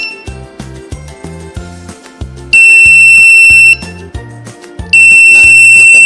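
An Arduino RFID electric door lock's buzzer signals access denied with two long, steady, piercing beeps, each lasting about a second, over a rhythmic background music track.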